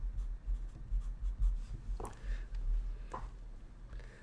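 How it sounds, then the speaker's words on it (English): Pen or pencil scratching briefly on paper while jotting down a measurement beside a ZBrush modelling session, two short strokes over a low steady room hum, fairly close and quiet. "I'm just going to write that down."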